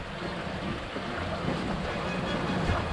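A sailboat cruises at about seven knots through steady wind and waves, with a continuous rush of water and wind buffeting the microphone, moderately loud and unbroken.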